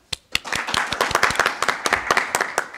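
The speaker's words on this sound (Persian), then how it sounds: "بله تشویق کنن" Studio audience clapping for a comedy show, a few scattered claps at first that quickly build into dense, lively applause, close and bright, continuing steadily to the end.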